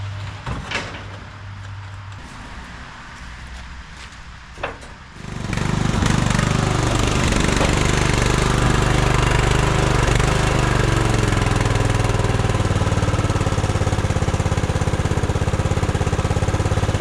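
A 1998 Craftsman LT1000 lawn tractor engine starts after a few clicks and knocks, then runs loud and steady at a constant drone for the rest of the stretch, with no one talking.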